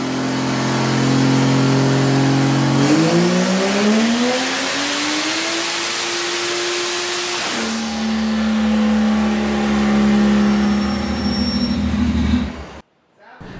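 A turbocharged Vortec 4200 engine runs hard on a dyno, its loud droning tone climbing steadily in pitch as it revs up, then dropping to a lower steady roar before cutting off abruptly near the end.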